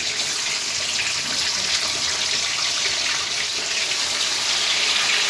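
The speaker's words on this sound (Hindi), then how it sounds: "तो हम देखिए गैस हम फिश को डाल रहे हैं," Katla fish frying in hot oil on a gas stove gives a steady, loud, continuous hissing sizzle that holds evenly throughout, with no voices.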